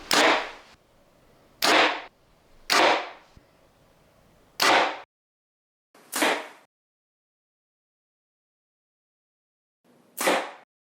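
Compound bows, a Phase 4 29 and a V3X 29, release arrows in six sharp thumps, each followed by a brief ringing decay, spaced unevenly and close with silence in between.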